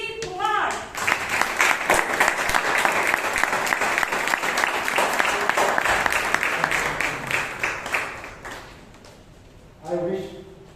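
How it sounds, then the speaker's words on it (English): An audience claps steadily at a Toastmasters club meeting in Bangalore, a dense, loud burst of applause that swells after the first second, holds for about seven seconds and then tapers off, with a voice briefly heard at the end. "let's put our hands together in welcoming the entrepreneur and the teacher"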